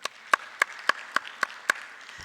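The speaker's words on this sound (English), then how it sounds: "Let's give them another round of applause." Sparse applause after a panel discussion at a livestreamed event: only about seven separate, evenly spaced claps, as if from one or two people, heard fairly close with no talking.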